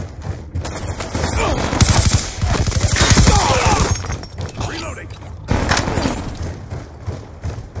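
Rapid gunfire rattles in a competitive Call of Duty Black Ops 2 match, with bursts of automatic shots and impacts, loud and continuous, while players shout over it.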